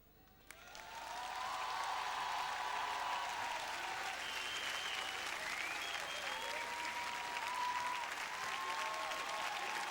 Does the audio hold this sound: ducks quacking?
no